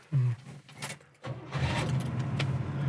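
A 1972 Oldsmobile Cutlass S engine cranks briefly, then catches and settles into a steady, fairly close idle after a short pause, with no talk over it.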